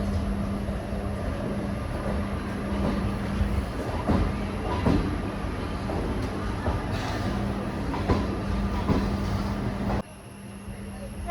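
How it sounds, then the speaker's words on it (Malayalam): The Secunderabad–Thiruvananthapuram Central Sabari Superfast pulls into a station, a continuous loud rumble with rhythmic wheel clatter and a steady low hum, easing off near the end. "Secunderabad Thiruvananthapuram central Sabari super fast ആണ് വന്നിരിക്കുന്നത്"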